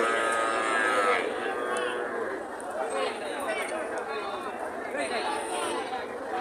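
Native calves moo repeatedly at a busy cattle market in Joypurhat, Bangladesh, their calls rising over a constant crowd chatter of buyers and sellers talking nearby.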